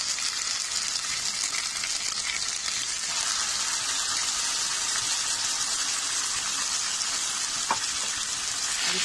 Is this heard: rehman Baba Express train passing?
no